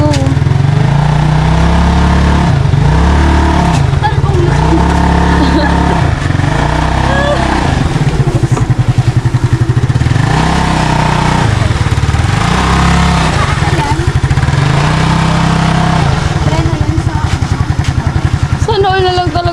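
A motorcycle engine revving loudly and continuously while being ridden, its pitch rising and falling in repeated cycles, with a voice talking over the engine noise.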